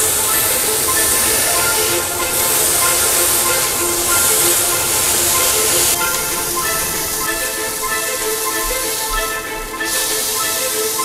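Burger patty sizzling on a hot griddle just after being flipped, a steady, loud, continuous hiss and crackle filling the whole stretch with no talk over it.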